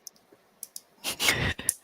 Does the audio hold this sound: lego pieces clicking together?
yes